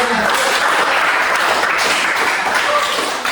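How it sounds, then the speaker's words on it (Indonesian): A group claps hands together in a sustained, dense round of applause, fairly loud and close, with no talking over it. "Oke, ya sekali lagi dari tepuk tangan."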